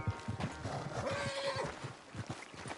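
A horse in Red Dead Redemption 2 gives a short neigh over soft hoof clip-clops, close and fairly quiet, lasting only a couple of seconds.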